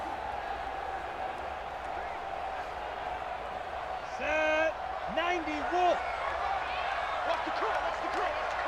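Home crowd cheering at a high school football game, a broad crowd roar with whoops rising in the middle, while a commentator talks over it throughout.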